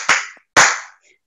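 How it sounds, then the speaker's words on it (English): Two loud, close hand claps from someone in a church youth service, about half a second apart, sharp and ringing, with silence between and after. "Let's clap for Brother Benjamin and Sister Brittany."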